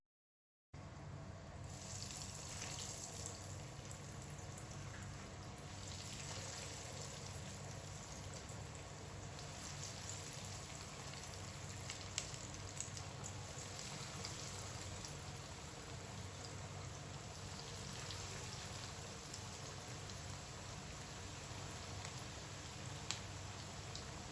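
Chicken cutlets fry in hot sunflower oil, making a steady, even hiss like light rain that starts abruptly after a moment of silence and continues unbroken, with a few faint pops.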